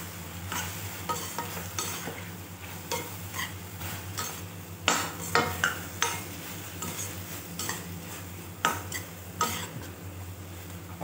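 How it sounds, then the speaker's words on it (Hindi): Ridged gourd sabzi with tomato being stirred in a pan, a spoon scraping and clinking against the metal in irregular strokes over a steady soft sizzle, close and fairly loud, with sharper knocks in the second half. "अब इन सबको हमने अच्छे से मिक्स कर देना है।"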